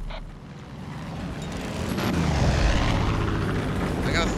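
Enemy airplane in the Far Cry 5 video game flying overhead, a steady engine drone that swells louder midway and holds, with speech over it.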